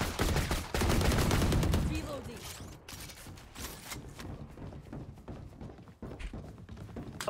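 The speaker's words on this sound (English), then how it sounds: "just shoot the wall" Gunfire in the video game Valorant, shooting at a wall: a loud burst of rapid automatic shots up front, then softer thuds, mechanical clicks and footsteps as it trails off.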